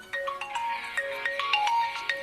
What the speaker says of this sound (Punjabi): ਮਾਮੀ ਦੀ ਨੂੰਹ ਦਾ ਫੋਨ ਹੈ